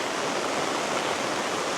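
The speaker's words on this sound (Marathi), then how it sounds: "आता बघा एवढा पाऊस पडतो आहे" In a village, a downpour roars as an unbroken, loud hiss with a rushing, waterfall-like quality, even and close from start to finish, no one speaking.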